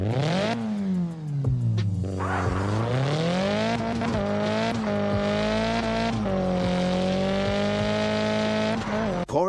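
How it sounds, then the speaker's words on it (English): Car drifting in the mobile game CarX Drift Racing 3, with a loud revving engine rising and falling through gear changes and long squealing tires sliding, close and continuous. "CarX Drift Racing 3 is a solid drifting game that offers a lot of content and replayability."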